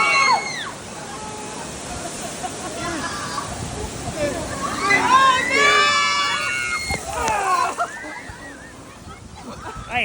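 Water sloshing and splashing over riders on the Congo River rapids raft ride at Busch Gardens Tampa, with surges of rushing water. Excited voices shout and talk over it.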